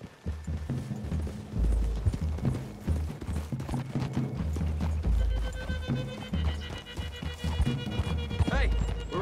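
Horse hooves clip-clop at a steady trot in the video game Red Dead Redemption 2, with a horse whinnying and people talking over the movement.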